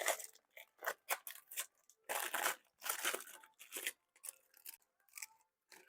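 A knife works through a stiff homemade Twix bar of chocolate, caramel and biscuit, giving repeated loud crunching, scraping bursts close up, separated by short pauses.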